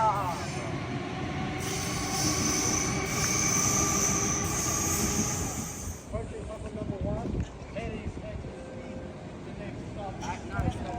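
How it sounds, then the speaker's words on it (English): A train passes close by with a loud rushing rumble and high wheel squeal that fade after a few seconds, followed by quieter rail noise while people talk and cheer excitedly. "That's the final train of Distrion"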